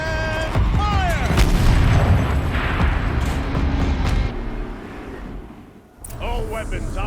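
Turret cannon fire in a video game: a loud booming blast with a long rumbling tail and rattling debris, followed by a quieter lull and then a renewed burst of noise, with electronic tones at the start and end.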